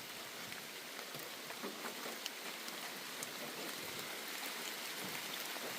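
Steady rain falling in a forest, a constant soft hiss of drops on leaves and ground with occasional louder taps, fairly faint and even throughout.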